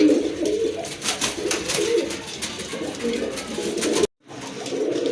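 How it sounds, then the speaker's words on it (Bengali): Pigeons coo steadily in a low, throaty murmur, close by, with a few sharper sounds on top and a brief cut near the end. "এখন কিন্তু দেখতে পাচ্ছেন এক জোড়া কবুতর রয়েছে"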